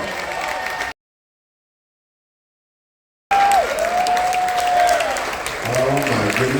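Crowd aboard a Carnival Dream cruise ship cheers and applauds for the Marines on military appreciation day, a loud burst that cuts out to silence, then returns with whoops and a sustained tone under continuing noise.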